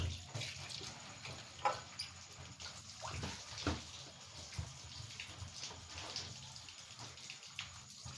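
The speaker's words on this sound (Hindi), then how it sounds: "अब ना मैं यहाँ से बर्तन धो लूँ, 2-3 हैं ये, 2-3 बर्तन धो लूँ" A few dishes are washed under a running tap, a faint steady hiss of flowing water with soft clinks and splashes scattered through it, quiet and continuous with no talking.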